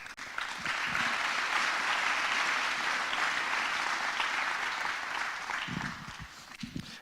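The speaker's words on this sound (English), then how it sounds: "If you could all give them one more big round of applause." Sustained applause from an audience at an induction ceremony, steady and full for several seconds before tapering off near the end.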